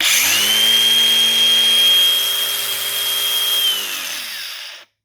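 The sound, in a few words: Dewalt angle grinder being started up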